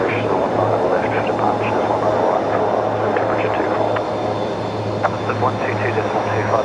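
A Kalitta Boeing 747 departs Brisbane Airport, heard as a steady engine roar with a pulsing low hum, held under ongoing talk from nearby voices.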